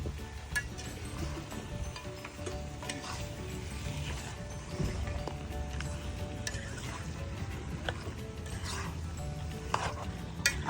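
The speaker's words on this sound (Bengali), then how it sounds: "মাংসটা কষাই" Meat being stir-fried in a pan at a camping and fishing site outdoors, steady sizzling with clinks and scrapes of stirring throughout, fairly close, and no clear talk.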